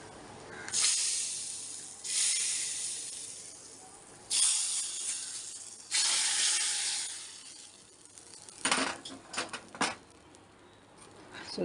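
Tempering spices for jackfruit, pineapple and mango sambar hiss and sizzle in hot oil in several loud bursts, each a few seconds long, followed by scattered crackles and pops.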